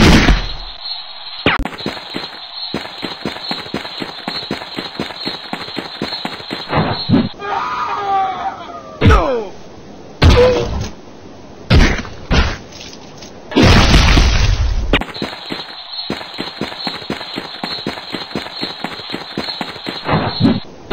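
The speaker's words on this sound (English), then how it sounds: "Grenade!" Grenade blasts in the Flash game Stick Figure Suicide: loud sudden booms breaking through looping game music, with cartoonish vocal cries in between.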